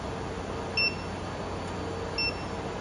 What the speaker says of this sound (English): And there is an alarm,